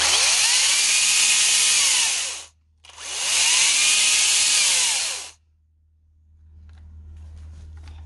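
A Makita 18V XPT brushless 10-inch top-handle battery chainsaw runs in two loud sustained bursts of a couple of seconds each, separated by a brief pause, then winds down to quiet.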